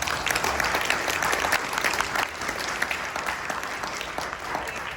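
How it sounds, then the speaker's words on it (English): Steady audience applause for the panelists closing a mental healthcare panel discussion, a fairly soft, even wash of many hands clapping for several seconds without any voices. "Everybody, round of applause."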